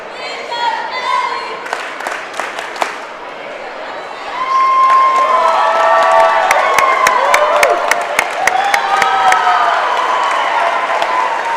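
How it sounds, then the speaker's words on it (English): Young cheerleaders from a spirit squad chant and cheer at a boys' high school basketball game, over gym crowd noise, sharp sneaker squeaks and scattered claps that swell louder midway through. "We'll see the little ones out here cheering with the Comet Girls Spirit Squad"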